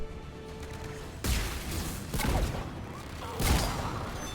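Turret gunfire bursts in Mass Effect 3's Cerberus HQ turret corridor: three loud, sharp volleys spaced about a second apart, with rumbling tails over a low ambient hum.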